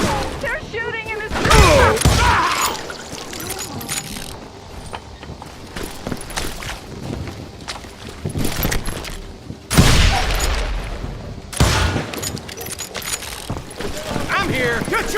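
Gunfire crackles in Call of Juarez Gunslinger, with several loud volleys and sharp bursts breaking over rumbling background action while voices shout between the shots.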